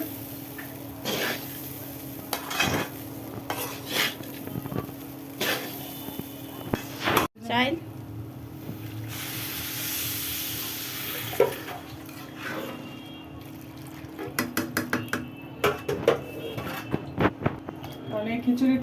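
Rice for khichuri is stirred and fried in a pan: irregular scraping strokes of a spoon against the metal ride over a steady close sizzle, with one sharper clatter midway and a quick burst of stirring toward the end.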